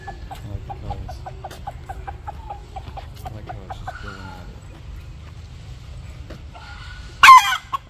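Repeated clucking and calls from a rooster in Thailand, moderately close, ending in a sudden loud squawk; a faint voice sits low in the background.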